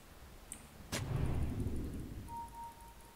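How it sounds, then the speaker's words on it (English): Rolling thunder in a video game: a sharp crack strikes suddenly, then a low rumble rolls on and slowly fades, fairly quiet overall with a faint high whine near the end. "Rolling thunder."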